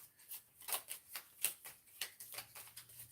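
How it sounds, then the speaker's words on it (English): Tarot cards are shuffled by hand in a quiet room, a soft, steady run of papery riffling clicks and flutters, faint and close. "One more shuffle where that card comes out."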